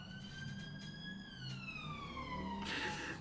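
A siren wails in Hurricane Diplomacy, a single tone sliding slowly downward over a faint background hum, fairly quiet and distant.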